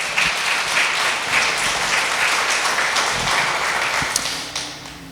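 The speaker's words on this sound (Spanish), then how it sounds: "Denle un fuerte aplauso al Señor." A church congregation gives a loud applause to the Lord, continuous dense clapping from many hands that carries on steadily before thinning at the end.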